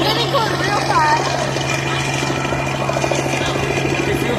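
A helicopter flies overhead while eggs are dropped from it, its rotor and engine drone loud and constant, with people talking excitedly over it.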